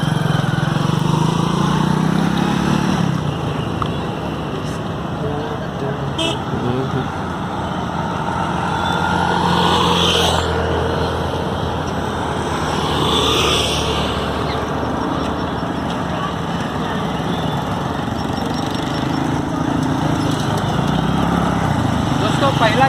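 A motorcycle engine runs steadily at low revs in first gear for the whole stretch, a continuous rumbling drone with slight swells, while someone talks over it.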